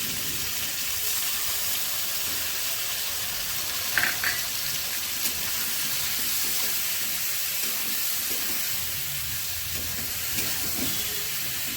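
Soaked cumin, coriander, chilli and turmeric paste fries in a pan for a rohu fish curry with cauliflower, giving a steady faint sizzling hiss throughout with a few small clinks.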